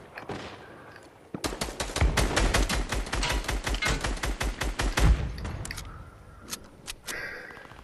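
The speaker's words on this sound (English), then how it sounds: "He's getting shot by that team." Rapid automatic gunfire in Fortnite, a dense burst of repeated shots lasting several seconds, then scattered single shots and faint effects trailing off afterward, no talking.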